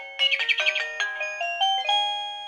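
A cheap Chinese wireless doorbell plays a ringtone of chirping bird calls: a quick flurry of bright warbling notes, then a few longer sustained tones, fairly quiet and clear, with no talking.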